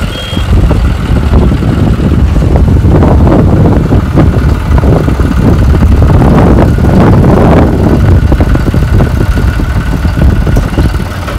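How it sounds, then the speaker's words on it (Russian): A tractor engine in a farm field in South Africa, a loud, steady low rumble that holds throughout, with a faint beeping tone mixed into the engine noise. "Заводится трактор."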